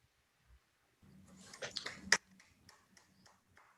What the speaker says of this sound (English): you have to deal with the solo clap from me instead of the audience